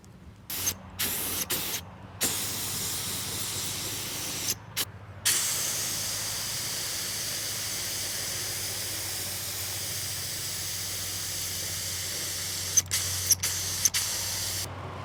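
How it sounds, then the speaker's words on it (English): A spray gun hisses in long continuous bursts while painting a vehicle frame, briefly stopping and restarting a few times, steady and fairly close. "So I'm just gonna spray everything I can reach from the top down"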